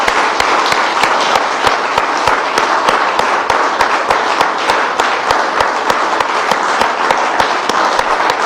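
A church congregation applauds during worship with steady, sustained clapping. Rhythmic sharp beats run evenly through it, as if the people are clapping in time, and it fills the room for the whole stretch.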